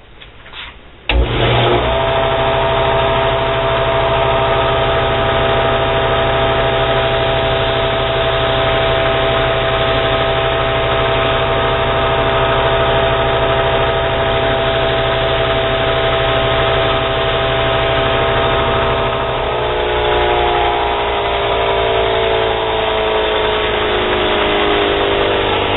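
A belt grinder running a 120-grit belt over a hard contact wheel polishes a knife blade, starting up after a second and then holding a loud, continuous rushing whir with steady tones, shifting slightly near the end.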